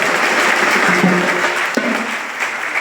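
A rally crowd claps in dense, continuous applause that stays loud for the whole stretch and eases slightly toward the end, with a brief voice heard under it.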